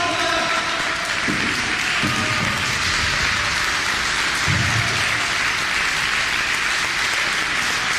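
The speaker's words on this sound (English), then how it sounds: "The crowd standing ovation for a man that they hated as much as loved, Shirley Doe." A wrestling crowd gives a standing ovation at an independent wrestling show, a continuous roaring wash of clapping and cheering with a few low thumps rising briefly beneath it.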